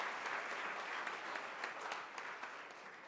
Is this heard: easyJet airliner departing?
no